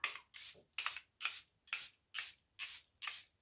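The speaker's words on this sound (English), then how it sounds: "I'm going to just spray the whole of my face now" Eight quick, even spritzes of a fine mist of makeup setting spray onto a face, each a short airy hiss separated by brief pauses, close and soft.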